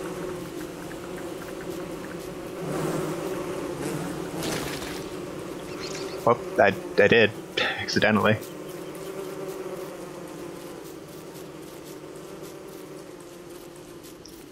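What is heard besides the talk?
bees buzzing in video game Don't Starve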